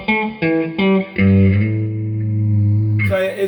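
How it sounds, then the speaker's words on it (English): Electric guitar notes and chords ring through a Peavey Classic 30 amplifier with a wet, spacious reverb tail; a few short plucks, then a sustained chord. "I'm just going to take the reverb up to about 2 o'clock"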